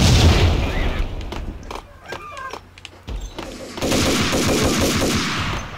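A grenade explosion in the Max Payne video game, a loud burst of booming and crackling game combat noise that drops briefly, then surges back into a dense, sustained roar of gunfire and blast debris.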